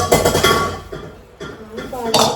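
Okra being washed in a metal pot in a home kitchen, with clinks and clanks of metal and splashing water, close and fairly loud, broken by a brief pause and then a sharp clatter.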